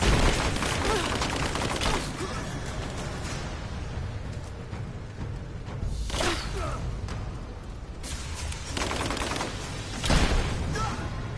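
Sustained gunfire and rapid bursts from a Tomb Raider firefight, loud and continuous with sharper volleys and whooshing sweeps standing out, plus a faint voice underneath.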